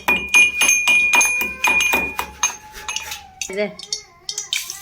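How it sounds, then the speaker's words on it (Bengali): Black peppercorns crushed in a home kitchen with a run of about eight quick, hard knocks, then scattered lighter clinks and scrapes, close and fairly loud. "গোলমরিচটা একটু থেতলে নেবো"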